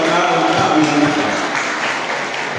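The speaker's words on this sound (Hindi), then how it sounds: "एक बार जोर से ताली बजा के सरकार उनका अभिनंदन करें." An audience at a children's school creative festival program bursts into dense, continuous applause, a loud, close wash of many hands clapping that fades slightly toward the end.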